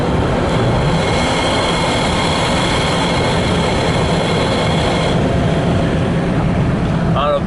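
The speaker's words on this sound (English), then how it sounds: "definitely get air intake noise" Land Rover Discovery 2 engine drawing air through a DIY Mantec-type snorkel, a loud steady whooshing intake roar with road rumble, heard from inside the vehicle near a cracked-open window.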